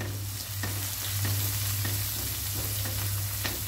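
Garlic, cumin and green chilli fry in a pan with a dense, steady sizzle over a low hum, punctuated by a few soft scraping taps of stirring, close and without speech.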